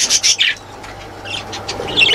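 A baby budgie chirps in a birdroom, with bright high chirps in a few quick bursts at the start and again at the end, close and fairly clear.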